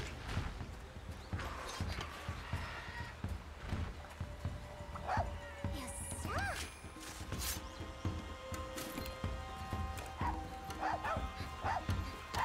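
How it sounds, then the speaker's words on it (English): A Palamute companion dog barks in Monster Hunter Rise, with short yips scattered among clanking creature steps, chimes and other game effects over steady background noise. "Good pupper, letting me know where the enemy was."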